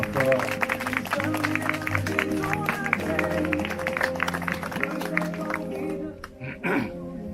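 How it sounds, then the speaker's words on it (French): Wedding guests applaud at a ceremony for Patana and Philippe, a steady patter of many hands clapping with crowd murmur and voices mixed in, thinning out toward the end. "On applaudit bien fort."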